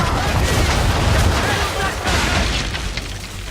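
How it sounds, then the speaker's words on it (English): Ship cannons firing a broadside in the naval combat of Assassin's Creed 3, a dense rolling series of deep booms filling the whole clip, loud and continuous with game voices mixed in. "Bring around broadside, and when all guns are on target, call fire."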